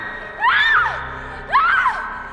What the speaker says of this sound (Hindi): प्रिया जोर से चिल्लाने लगी